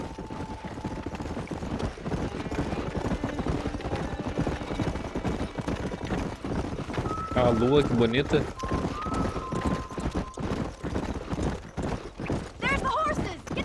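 Horses in the Red Dead Redemption video game trot with steady rhythmic clip-clop hoofbeats and a brief whinny, mixed with game music tones while a person talks over it.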